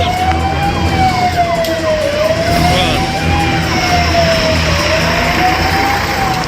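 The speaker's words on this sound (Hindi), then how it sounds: "ये पुलिस की सायरन की आवाज" A police siren wails steadily at a scene of unrest in Gopalganj, its loud rising-and-falling tone sweeping slowly over constant road and crowd noise without a break.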